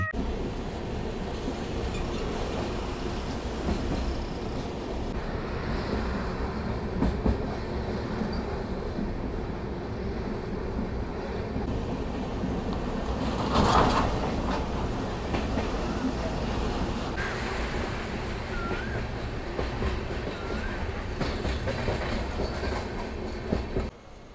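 The Darjeeling Mail rolls into Malda Town station with a steady, fairly quiet rumble and faint clickety-clack of wheels, a brief louder surge midway, and occasional voices in the background.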